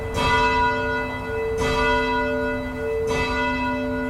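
A church bell rings three times at an even, slow pace, each strike ringing out and sustaining into the next, loud and close.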